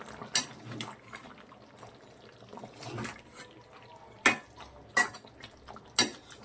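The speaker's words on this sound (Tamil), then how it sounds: "இப்போ நல்லா ட்ரை ஆகிற வரைக்கும் கலக்கி கொடுக்கலாம்" Utensil scraping and clinking against a cooking pan of pepper chicken gravy, a few sharp taps spaced irregularly over a quiet sizzling background.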